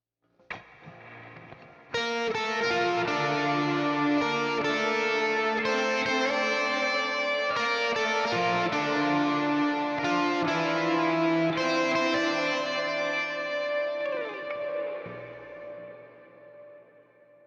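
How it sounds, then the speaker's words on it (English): A synth line swirls through a phaser into a long, washy chamber reverb, sustained chords shifting every couple of seconds before a lingering tail fades out. "I've got this phaser going into the reverb."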